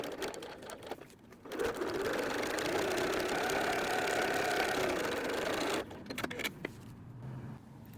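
A sewing machine drives steadily through a bulky corner of a messenger bag for several seconds, a loud close mechanical whir with quieter handling noises before and after.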